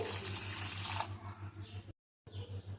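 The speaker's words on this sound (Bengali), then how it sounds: "তার মধ্যে দিয়ে দেব এক কাপ চিনি এক কাপ জল" A cup of water is poured into a pot holding sugar to start a syrup, a close, steady splashing rush for about a second that then trails off into quieter trickling and a brief silent break.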